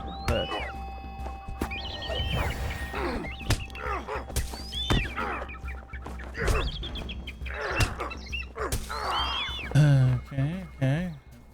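A bird in Lord of the Rings Online screeches and squawks in repeated sharp calls amid game combat sounds, with a player talking over it.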